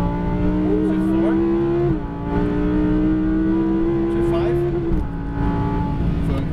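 An Audi R8 V10 screams along a racetrack under hard acceleration, its loud engine note climbing steadily and dipping sharply at each upshift, with brief speech from an instructor over it.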